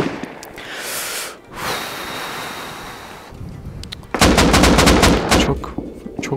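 Gunfire in the survival video game Rust, bursts of rapid shots cracking loudly near the end after a stretch of windy, surf-like ambience and a few earlier scattered pops.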